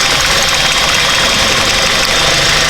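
A car engine idles roughly with one cylinder dead, giving a steady, loud, uneven running noise with a faint knocking texture and no talking.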